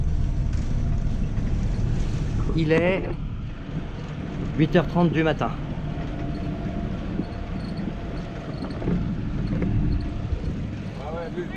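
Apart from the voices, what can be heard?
catamaran engine motoring with no wind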